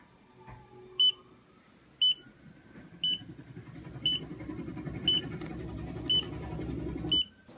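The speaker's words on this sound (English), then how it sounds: "the camera started beeping like so" A Xiaomi Yi action camera beeps sharply about once a second, seven times, after a firmware update, over a low steady rumble, with no one talking.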